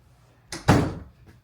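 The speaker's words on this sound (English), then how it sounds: "Let me close the door so he can't bother us." A bedroom door swings and shuts with one soft thud, preceded by a short creak, close by and alone.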